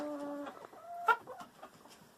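A Brahma hen clucks and squawks close by in a quick, uneven series, with one sharper loud call midway.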